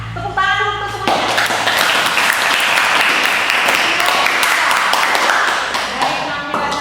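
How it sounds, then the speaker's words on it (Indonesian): Students in a classroom break into clapping after a group dance presentation. A brief voice comes first, then a burst of close, busy hand claps and taps carries on until it tapers off at the end. "Tepuk tangan dulu untuk semuanya."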